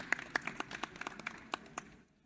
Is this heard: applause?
yes